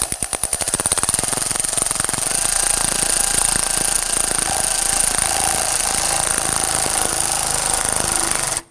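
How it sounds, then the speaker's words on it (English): A ratchet on an extension tightens a hose clamp behind the air baffle of a 2003-2014 Volvo XC90, a loud, unbroken, rapid mechanical rattle lasting several seconds before stopping abruptly. "we're going to use our extension to come around the back side of the baffle and tighten down the hose clamp"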